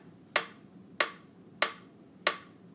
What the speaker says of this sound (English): now clap it out